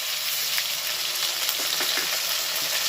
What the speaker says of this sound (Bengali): এবার এটাকে ভেজে নেব।